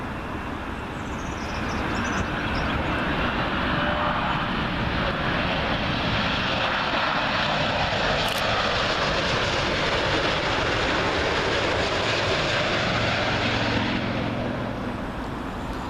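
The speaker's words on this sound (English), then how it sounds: "Next, Air Canada 787 Dreamliner coming in from Mumbai." An Air Canada Boeing 787 Dreamliner coming in to land at Heathrow from Mumbai, a loud sustained jet roar that swells in and holds steady before easing off at the end.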